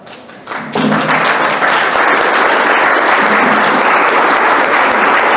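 Sustained audience applause fills a book presentation hall, starting with a brief softer moment then swelling into steady, dense clapping from many people for several seconds.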